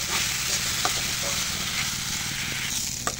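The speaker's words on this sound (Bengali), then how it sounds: "এখন চাউলটাকে ভালো করে ভেজে নেব" Raw rice grains fry in a pan, making a dense, even sizzling hiss that stays steady and fairly loud throughout, with occasional faint taps of stirring.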